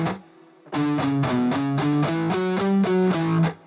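Distorted electric guitar plays a fast shred pattern, a rapid run of picked notes repeating in a tight cyclic figure, loud and close, after a brief quiet lead-in.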